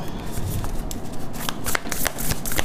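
Tarot cards shuffled and drawn by hand, a close, continuous papery riffling and flicking with crisp snaps as cards slide and are pulled from the deck, with no talking.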